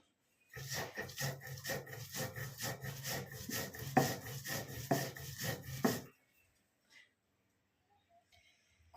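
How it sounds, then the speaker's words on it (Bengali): Garlic, green chili and black cumin being ground fine on a stone, a rhythmic back-and-forth rasping and rubbing, close and steady for several seconds, then stopping into near silence. "রসুন আবার কাঁচা লঙ্কা আবার কালো জিরে, এটা একটু মিহি করে বেটে নিতে হবে।"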